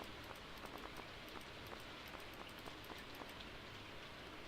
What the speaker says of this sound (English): I don't mind the rain.